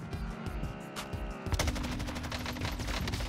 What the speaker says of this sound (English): So I just got shot at. Don't know where from, but I definitely just got shot at.